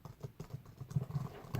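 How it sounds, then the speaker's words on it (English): Fingers tap out quick, uneven keystrokes on a computer keyboard, close and fairly quiet, in short bursts with no talking. "Let me just type that rest in."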